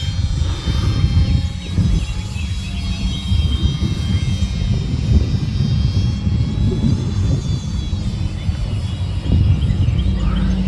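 A Vevor A210 Trojan RC airplane, a model warbird, taking off at half throttle, a steady buzzing electric motor and propeller drone with rumbling wind and ground noise, moderately close and continuous, no talking.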